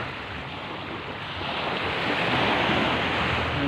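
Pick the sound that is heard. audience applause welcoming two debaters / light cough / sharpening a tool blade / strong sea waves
strong sea waves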